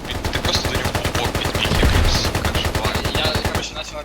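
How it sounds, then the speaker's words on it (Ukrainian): Rapid bursts of automatic gunfire close by, a continuous rattling stream of shots for several seconds, during combat in a village. "Тихо, та свої, куди ви стріляєте?"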